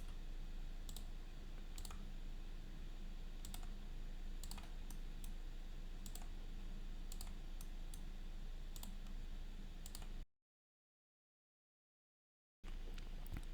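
A computer mouse clicks while point features are added in QGIS: sharp, isolated clicks spaced a second or so apart over a steady background hiss, with a brief gap of silence near the end.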